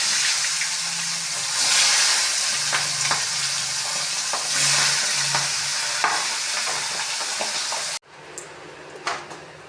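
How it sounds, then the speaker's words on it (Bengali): Pabda fish fry in oil in a wok with a loud, continuous sizzle and stirring scrapes, then the frying cuts off abruptly, leaving quieter kitchen sounds. "মাছগুলো ভাজা হয়ে গেছে। এই মাছ তো বেশি ভাজতে যাবে না, হালকা হালকা করে ভেজে নিয়েছি।"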